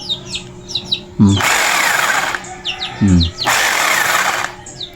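An electric chipping gun with a faulty hammer runs its motor alone in two whirring bursts of about a second each, with birds chirping in the background between them.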